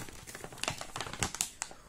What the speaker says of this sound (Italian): apriamo questo pacchetto e vediamo se riesco. Sì, si apre abbastanza bene.